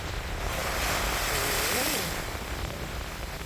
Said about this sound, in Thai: คลื่นลมแรงมาก เสียงคลื่นสัดสาดเข้ามาที่ชายฝั่ง